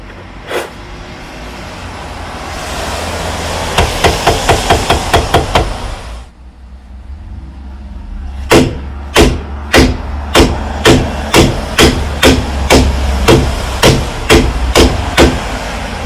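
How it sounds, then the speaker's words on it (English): Loud metal hammer blows ring out while knocking rusted brake drums off a Morris Minor, first a fast burst of strikes, then a steady series of sharp, evenly spaced hits. "let's just hammer them off"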